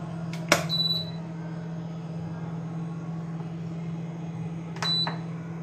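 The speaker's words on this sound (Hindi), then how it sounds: "सबसे पहले हम इंडक्शन को ऑन करेंगे" An induction cooktop switches on with a sharp click and short electronic beep, then a steady low hum; another click and beep come near the end.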